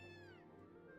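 A cat in the video game Gravity Rush lets out a single drawn-out, falling meow, clear and close over a low steady ambient hum.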